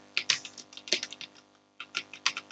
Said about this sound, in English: so once again type net space local group